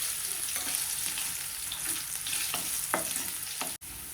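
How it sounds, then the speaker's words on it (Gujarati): Potatoes sauté in hot oil with mustard seeds, cumin and asafoetida for an aloo palak sabzi, giving a steady close sizzle with a few scraping stirs of the pan. "બટેટાને આપણે તેલમાં સાંતળી લઈશું"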